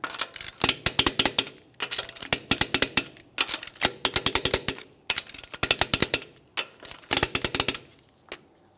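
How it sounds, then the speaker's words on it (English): Wheel lug nuts on a Mitsubishi Lancer being tightened in bursts, a loud rapid ratcheting clatter repeating in short runs separated by brief pauses. "We're going to be torquing these to 80 foot-pounds in a crisscross manner."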